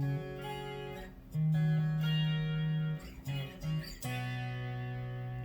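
Guitar played through the chorus setting of a Donner AlphaFX pedal at half depth and rate, clean tone with shimmering, slightly wavering single notes and chords, fairly quiet and alone.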